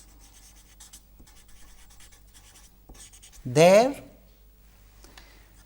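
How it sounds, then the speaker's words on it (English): A pen scratches across paper with short, light, intermittent strokes during a lecture on filter banks, broken by a single word spoken over the writing. "Let us write that down."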